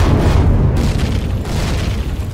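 A core explosion in the video game Star Salvage booms out as a loud, sustained low rumble, with a second surge of blast noise partway through and no voices over it.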